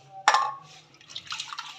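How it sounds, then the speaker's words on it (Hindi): Water is poured over tamarind chutney ingredients: a sharp splash at the start, then a softer trickling and gurgling for the rest of the moment, fairly quiet and close. "ये मैं इसके अंदर ये ऊपर से पानी डाल दूँगी ताकि ये अच्छी तरह साफ़ हो जाए।"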